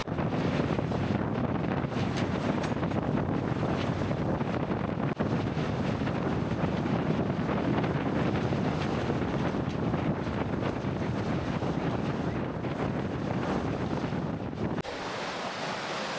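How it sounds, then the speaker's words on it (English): Strong wind of about 23 to 26 knots roars steadily across a sailboat at sea, with waves and surf washing continuously and heavy buffeting on the microphone, then easing slightly near the end. "it's already blowing like between 23 and 26 knots"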